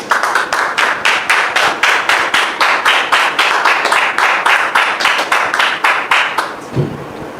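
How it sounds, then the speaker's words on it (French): Audience applause at a gathering, sounding as a loud, steady run of distinct rhythmic claps close by that carries on for several seconds and then stops abruptly near the end. "Sous vos applaudissements, s'il vous plaît"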